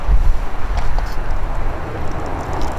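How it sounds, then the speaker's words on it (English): Wind gusting over a frozen lake during ice fishing, a steady, loud low rumble of buffeting against the microphone that swells and eases throughout, with no voices. "It's this wind."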